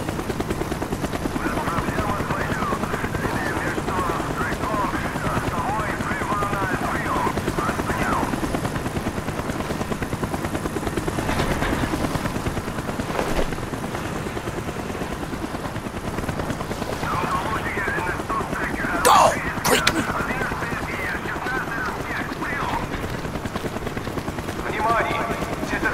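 A helicopter in Call of Duty Black Ops, mission Rebirth, drones steadily overhead for the whole stretch, thick and continuous, with a few sharp bursts near the end that could be gunfire.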